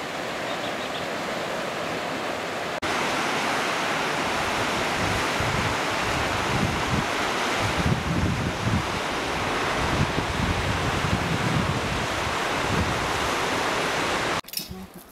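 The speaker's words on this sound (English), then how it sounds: "the wind can get quite fierce because they're in the valleys and the wind blows down along the valleys" Strong wind roars steadily down a valley in Bhutan, a broad, loud rushing gust with microphone buffeting that runs almost the whole stretch and cuts off near the end.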